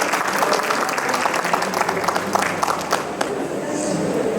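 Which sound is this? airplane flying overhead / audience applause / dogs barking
audience applause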